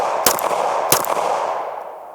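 Two sharp, loud Glock pistol shots ring out about two-thirds of a second apart, each trailing into an outdoor echo that fades away.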